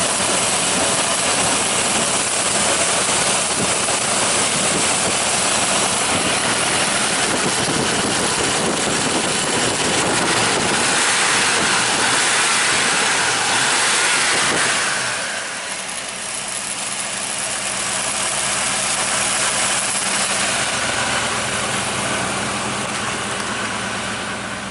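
A 1987 Chevrolet Monte Carlo engine idles steadily and loudly for the whole stretch, with a broad continuous rumble and hiss that dips slightly partway through, no talking.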